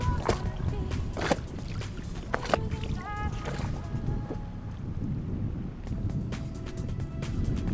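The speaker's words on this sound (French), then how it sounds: "Le vent après, c'est vraiment levé fort, mais vraiment fort." Strong wind buffets the microphone as waves slap against a fishing boat on a lake, a steady rough rumble with a few sharper splashes and knocks near the start.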